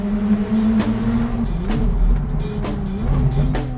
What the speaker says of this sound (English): Driving the Scuderia is an assault to your senses. The sound that it makes is intoxicating.